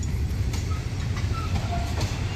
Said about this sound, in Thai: ขบวน 208นะครับ